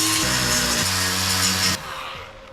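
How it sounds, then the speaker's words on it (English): A Milwaukee sander polisher fitted with a Scotch-Brite wheel works on aluminium, giving a loud steady whine with shifting pitch that cuts off abruptly partway through, leaving quieter background noise. "This is a sander polisher, and I've got like a Scotch-Brite wheel on here"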